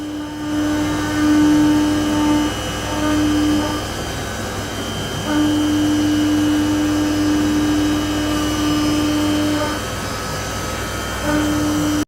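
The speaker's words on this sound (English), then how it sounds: "And now it's milling out the shape for this side of the bracket as well." A 4-axis CNC machine, powered by a V8, mills out an automotive kickdown cable bracket, giving a steady mechanical drone and an on-and-off high cutting whine, loud and continuous without speech.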